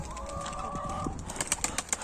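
Pigeons coo nearby in a soft low warble, with a steady tone early on and several sharp, brief taps and clatters toward the end.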